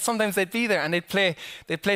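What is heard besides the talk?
No distinct noise like a dog, phone or traffic.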